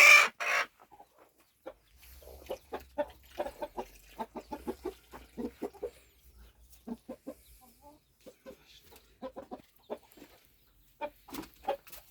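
Chickens cluck in short, repeated bursts close by, with a brief louder squawk at the start and near the end, and faint low rumble underneath.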